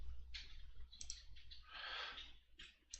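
Mouse clicks on a computer while saving documents in office software, a few short sharp clicks spaced irregularly over a quiet room background.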